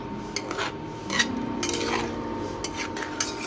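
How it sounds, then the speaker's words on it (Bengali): A prawn and drumstick curry with soaked mustard-chilli paste and water is stirred in a pan, with scattered metallic clinks and scrapes of a spoon against the metal, fairly quiet and close. "এবার আমি এটা ভালো করে একটু নেড়ে নেবো"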